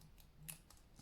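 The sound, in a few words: scissors cutting at an angle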